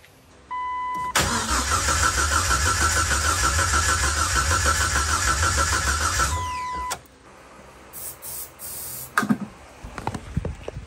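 A Jeep TJ engine with straight pipes and no exhaust cranks, fires and roars at a loud, steady idle for about five seconds before cutting off. Clunks and rattles follow, all up close with no talk.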